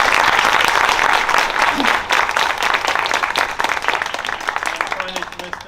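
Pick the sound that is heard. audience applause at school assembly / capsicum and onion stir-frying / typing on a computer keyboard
audience applause at school assembly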